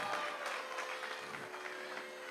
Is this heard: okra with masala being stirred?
no